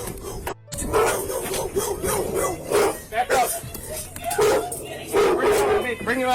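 Dogs bark and yip repeatedly in bursts, with people talking and shouting over them in a busy, close scene.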